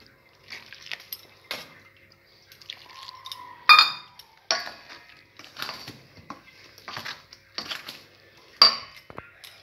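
A spatula clinks against a bowl while hot water is poured and rice-flour dough is mixed, giving scattered sharp knocks and scrapes with soft trickling between them, close and fairly quiet.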